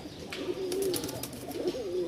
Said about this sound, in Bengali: 2 পিস কবুতর দেখতে পাচ্ছেন মাশাআল্লাহ